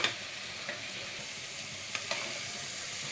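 A pot of leek and potato soup with bay leaves and black pepper is stirred, giving a steady soft sizzle with a few light scrapes of the spoon scattered through it, and no one talking.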